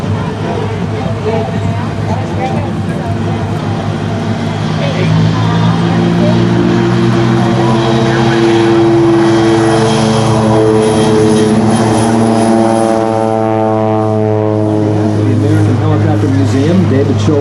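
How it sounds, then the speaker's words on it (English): A U.S. Army Special Operations Command propeller airplane runs up and launches at an air show with a loud, steady engine drone. The pitch climbs and sweeps as it gets underway, with a voice faintly audible beneath the noise. "Our U.S. Army Special Operations Command airplane will be launching momentarily."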